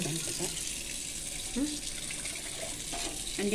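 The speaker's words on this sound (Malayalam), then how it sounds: "ആ പൈപ്പ് ശരിക്കും ഓഫ് ആവുന്നില്ല അല്ലേ" Tap water runs steadily from a faucet that will not shut off completely, a constant hiss close by with short bits of talk over it.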